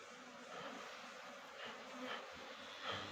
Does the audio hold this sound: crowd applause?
no